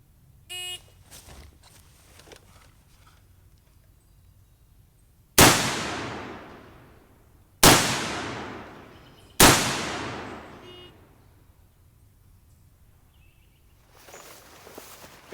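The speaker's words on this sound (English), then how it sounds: "I have to drop to a prone position and fire 3 rounds into the body of the target in a time limit of 10 seconds." Three sharp, loud SOCOM16 rifle shots are fired from a prone position on an outdoor qualification range, spaced about two seconds apart, each with a decaying echo.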